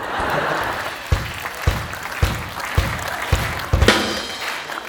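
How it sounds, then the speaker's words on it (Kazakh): A concert audience at a show claps, first as a dense wash of applause, then as loud unison handclaps beating a steady rhythm about twice per second. "қол шапалақлар болсын"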